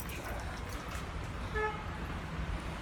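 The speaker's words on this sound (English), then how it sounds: "it just honked its horn twice to tell people to get out of the way" A van horn honks twice, briefly, over a low rumble of street and traffic noise, moderately distant.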